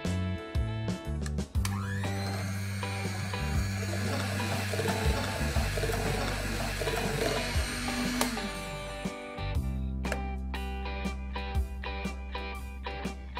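Half a cup of salted butter and a cup of brown sugar are creamed together by an electric beater in a bowl, giving a steady whirring hum with brief starts and stops, close and fairly quiet.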